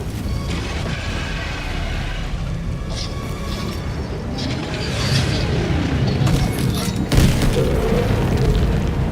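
Eagle airstrike explosions from the Helldivers 2 video game boom and crash in a loud, rumbling sequence, with heavier impacts swelling toward the end and a sharp blast near the close.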